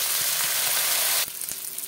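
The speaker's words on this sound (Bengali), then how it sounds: "এই তেলে আমি ফুলকপিগুলো ভেজে নেব।" Cauliflower pieces fry in hot oil, a loud dense sizzle that drops suddenly in level partway through, followed by a few light knocks from stirring.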